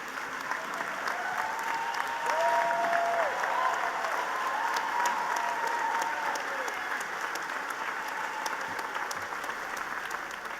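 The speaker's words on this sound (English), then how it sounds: "I think you should all stand up and give these master's graduates a nice round of applause" Sustained applause from a graduate commencement audience standing to honor master's graduates, a dense steady clapping that fills the hall for about ten seconds with faint crowd murmur.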